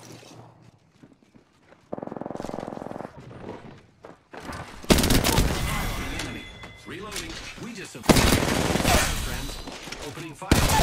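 Video game gunfire in Apex Legends, played as Pathfinder in Season 8: after quieter moments, loud dense bursts of rapid shots rattle on almost continuously, layered with game effects.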